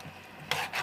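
Carrots, turnips and potatoes are stirred around in a cooking pot with whole chili, giving a brief soft scrape followed by two short, bright bursts of rustling and scraping, close and fairly quiet.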